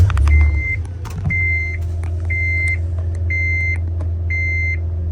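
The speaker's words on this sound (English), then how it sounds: "Let's go ahead and start up the van." A 2016 Honda Odyssey EXL wheelchair-ramp van starts up, its engine catching and settling into a steady low idle while a chime beeps in five regular pulses.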